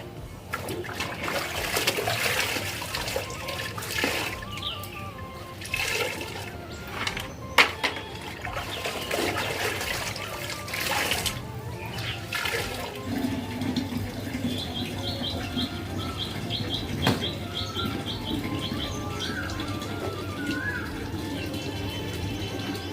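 Clothes washed by hand with water, with continuous sloshing, splashing and wet slapping throughout, and faint bird chirps in the background.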